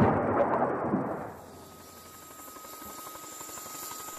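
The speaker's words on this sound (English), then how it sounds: "heavily armed Apache will approach the range and begin engaging targets" An Apache attack helicopter gives a loud, rumbling roar for about a second, then the heavy noise drops away to a steady distant whine and hum.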